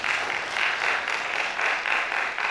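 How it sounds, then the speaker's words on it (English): Attendees at a NIHORT workshop on banana seed certification clap for themselves. The applause is a steady, fairly loud wash of many hands with slight pulsing swells throughout, and no talk over it. "So let's clap for ourselves."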